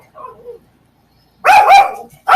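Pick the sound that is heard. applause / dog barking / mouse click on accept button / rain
dog barking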